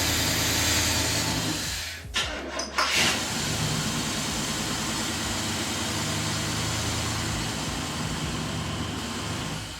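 A new high torque starter cranks the engine of a 1972 Chevrolet Impala, a loud, steady low whirring drone that holds for several seconds, broken briefly by a stutter and clunk before the cranking resumes.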